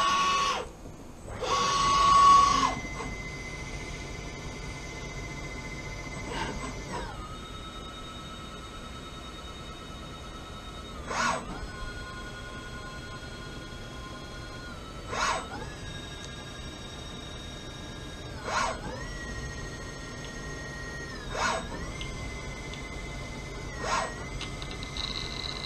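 Hardinge CNC lathe running an automatic program, a steady quiet machine hum with faint high whines and periodic short bursts of cutting or motion every few seconds, an early louder burst at the start.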